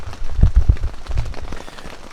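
Rain falling on a tent at a riverside campsite in Mito, a loud close patter of drops with several heavier thumps against the fabric, steady and dense with no talking.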